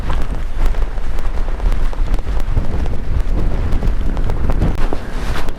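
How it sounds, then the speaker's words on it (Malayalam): Strong, continuous wind sweeps across a hilltop, roaring and buffeting loudly against the microphone without letting up. "തുടർച്ചയായിട്ട് വീശുന്ന കാറ്റ് നമ്മളെ അങ്ങ് പുറകോട്ട് പിടിച്ച് തള്ളുകയാണ്"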